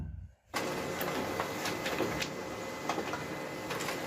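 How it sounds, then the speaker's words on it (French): A printer running off a sheet of barcode labels starts abruptly after a brief hush, then settles into a loud, continuous mechanical whir with faint rhythmic clicks as the page feeds through. "Donc je vais imprimer."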